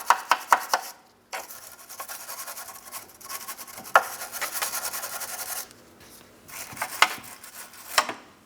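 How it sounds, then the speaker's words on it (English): A wire brush scrubs rust off the rear lateral link mounting area of a 2004-2008 Pontiac Grand Prix, giving close, raspy scratching strokes in uneven bursts, with a few sharp clicks. "I'm using a wire brush."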